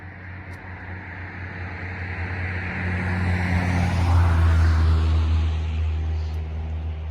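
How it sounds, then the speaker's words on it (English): A car approaches and passes close by on a roadside in Pennsylvania, its engine rumble and tire noise swelling to a peak, then easing off as it moves away. "So I hear another car coming."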